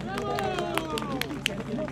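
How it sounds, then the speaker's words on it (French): At a Paris rally calling for the departure of Guinea's CNRD, the crowd greets Sékou with clapping that falls into a loose rhythmic beat beneath a layer of voices and shouting. "Un tonnerre d'applaudissements pour Sékou"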